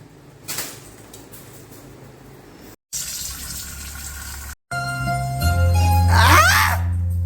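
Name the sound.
water for soaking rice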